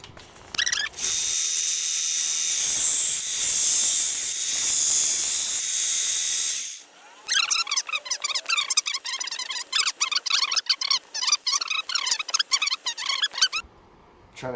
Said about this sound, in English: let's get to the grinding